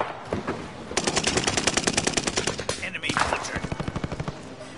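Video game gunfire: sustained automatic bursts, loud and close, with rapid regular shots over several seconds and a brief gap before another run, while game voice lines speak over the firing.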